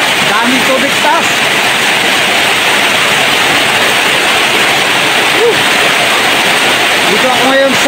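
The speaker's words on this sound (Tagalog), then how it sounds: "Walang bagyo pero ang lakas ng ulan" Heavy rain pours down steadily without a storm, a loud unbroken roar of water flooding a house yard on a street at dusk, with faint voices briefly audible beneath the downpour.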